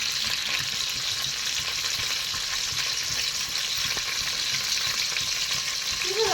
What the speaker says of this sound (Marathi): तेल गरम झालं. आता तिच्यातून कांदा टाकते.